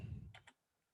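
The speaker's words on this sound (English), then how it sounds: "started typing out what I needed to" A few sharp keyboard key clicks, two close together then one more, after a brief low rumble, otherwise quiet.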